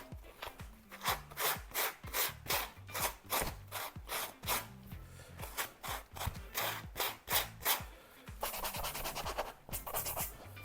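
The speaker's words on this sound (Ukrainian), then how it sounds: "Починаємо з шліфування." Rhythmic back-and-forth sanding strokes rasp across a glossy surface being prepared for gluing, close and steady, then switch to quicker, lighter scrubbing toward the end.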